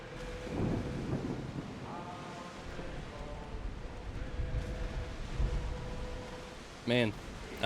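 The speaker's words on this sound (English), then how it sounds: "we're going through a big old storm" Thunder rumbles over steady rain and wind during a storm at sea in a sailing video game, with a sharp crack near the end and speech in the background.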